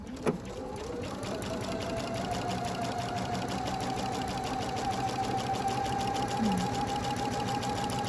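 A sewing machine stitches steadily down a fabric edge in a grid-projection sewing setup, giving a close, continuous motor whir with a faint click at the start and no pauses.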